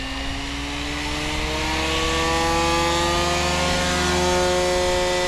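Electric motor of a Goblin 500 RC helicopter spooling up, a loud steady whine whose pitch rises as the rotor head gains speed, with no talking.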